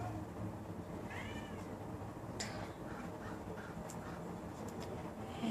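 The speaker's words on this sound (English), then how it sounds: "That's my cat meowing." A house cat meows several times in short, separate calls over a quiet indoor background, fairly close and clear, with no talking.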